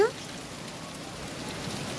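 Steady rain falls on and around a pet parrot, a dense even hiss of drops that holds at moderate loudness throughout, with a brief louder patter right at the start.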